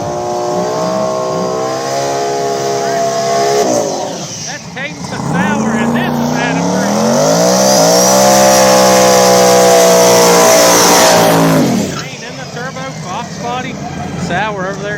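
Outlaw small tire drag race car, a turbo Fox body class event, revving hard with rising and falling engine tones during a burnout, loud and close, with an announcer talking over it.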